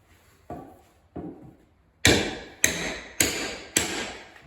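Drawbore pegs are hammered partway into a workbench mortise and tenon, two lighter taps and then four loud, evenly spaced blows, close and sharp with short decays.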